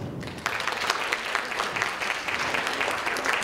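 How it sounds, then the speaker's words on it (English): Audience applause at a women's business networking conference, a steady wash of clapping from a crowd that begins softly and holds at a moderate level for a few seconds. "a big round of applause for her"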